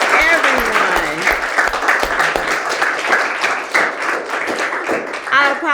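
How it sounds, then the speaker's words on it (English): Audience applauding after a mock trial in a room, dense continuous clapping from many hands, loud and close, with voices talking and calling out over it. "now we can applaud"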